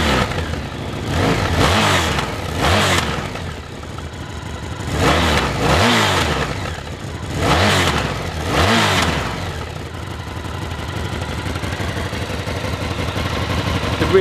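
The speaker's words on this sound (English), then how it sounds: "Just give the throttle a little bit of a blip." A motorcycle's Scorpion exhaust revs up in several short throttle blips, each rising and falling back to a rumbling idle, close and loud.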